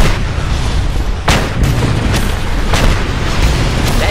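A loud grenade blast in Just Cause 2, a sharp boom followed by several heavy rumbling impacts and crackling bursts over a dense background roar.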